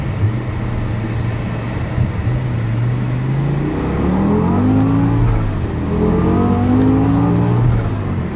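An 800 HP G-Power BMW M5 V10 Bi-Kompressor Hurricane RR accelerating hard from first gear on the German Autobahn, its engine note rising through the revs and then pulling up again after a shift, loud and heard from inside.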